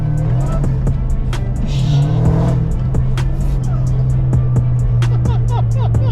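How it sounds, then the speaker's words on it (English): A supercharged Dodge Hellcat engine revs hard in quick bursts, loud and close, with a steady high supercharger whine riding over the roar and sharp repeated pops. "you really hear the supercharger whine. So I'll give it a little blip for you."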